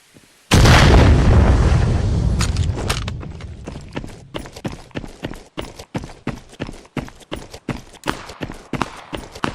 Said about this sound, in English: Two of them shooting at me.